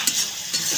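Egg curry masala in oil sizzles in a pan while being stirred, a close, brief crackling hiss with light scraping touches, no voices.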